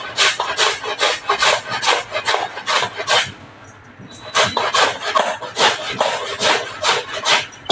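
Ash gourd being grated by hand for a sweet, firm flesh rasping against a grater in steady rhythmic strokes, close and fairly loud, with a short pause midway before the strokes resume.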